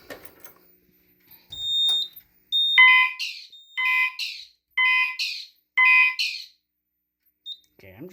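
A System Sensor fire alarm horn set off by a heat detector, sounding in loud repeated bursts of about a second each with short gaps, close and piercing, followed by silence.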